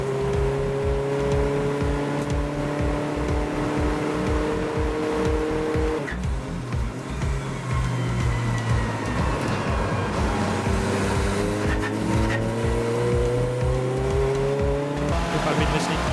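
Race cars, including a Ginetta and a VW Golf, roar through a right-hand corner at Anglesey circuit, with a steady loud engine drone, gear changes and passing cars throughout, under continuous commentary.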